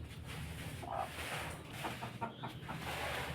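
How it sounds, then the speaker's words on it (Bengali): A hen with her chicks clucks angrily at a village homestead in Kaliakair, Gazipur, with short agitated calls over steady background noise. "মুরগি দেখেন বাচ্চা আছে সাথে, ওর রাগ হইতেছে"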